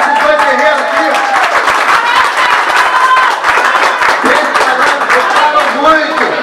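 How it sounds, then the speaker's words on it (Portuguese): Clapping from onlookers for two young fighters after a kids' fight match, brisk and steady for several seconds, mixed with loud nearby talk and excited voices. "Pessoal, uma salva de palmas para esses dois guerreiros aqui, ó!"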